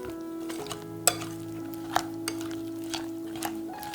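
A whisk stirs egg yolk batter for a Taiwanese castella cake in a bowl, with soft swishing and sharp metallic clinks against the side at irregular intervals over a low steady hum.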